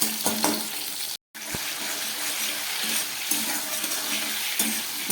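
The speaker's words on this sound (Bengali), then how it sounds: "নুন হলুদ ছাড়া আমি একটু ভেজে নিচ্ছি ঝিঙে আর আলুটাকে।" Ridge gourd and potato frying in a pan without salt or turmeric, a close steady sizzle with occasional scraping stirs, briefly cut to silence near the start.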